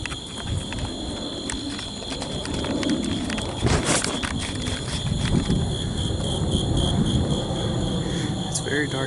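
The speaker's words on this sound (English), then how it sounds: "Just a cricket." Steady insect chirping, likely crickets, fills the dark woods near Round Rock, Texas, a continuous high trill beneath rustling movement and a low background rumble, with a brief sharper noise partway through.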